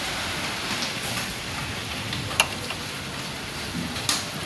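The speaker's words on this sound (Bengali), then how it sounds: "হ্যাঁ তাই বল, বৃষ্টি পড়ছে, পালা।" Soft, steady rain hisses faintly throughout, with a couple of sharp drips or ticks standing out.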